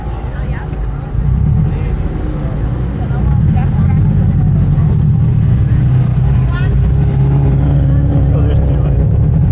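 A rusty Subaru Impreza laps the Nürburgring Nordschleife, its engine a loud, steady in-cabin drone with low rumble that swells slightly after the opening seconds, and voices talk over it.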